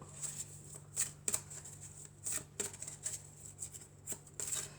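Tarot cards are handled and drawn from a deck close up, giving soft papery swishes and quick flicks in irregular bursts against a quiet room.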